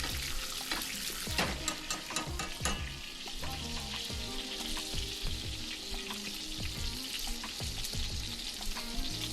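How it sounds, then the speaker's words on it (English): Steak basted with foamy butter, herbs and garlic in a pan: a steady close sizzle with bursts of spattering and spoon scrapes, loud and continuous with no talking. "now here I am basting the steak with the butter"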